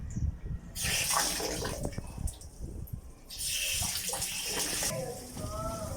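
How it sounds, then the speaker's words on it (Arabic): Water gushes and splashes steadily in bursts from a rooftop water tank being drained for cleaning, close by, with people talking intermittently over the running flow. "سيبها تنزل ميه عشان تنضف"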